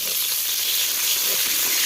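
Taro stems frying with dried Bhola fish and turmeric in a wok give a loud, continuous, dense hissing sizzle that stays steady and close throughout.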